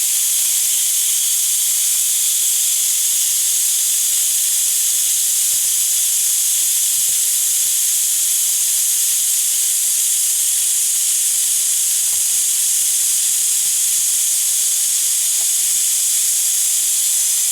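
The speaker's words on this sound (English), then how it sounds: "Now I'm going to release the steam." Loud, continuous steam hissing streams out of an Instant Pot pressure cooker's release valve without a break, a bright high rush that stays steady throughout.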